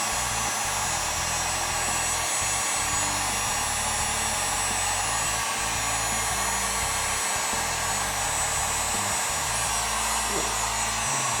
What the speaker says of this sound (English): Shrink it down with a heat gun.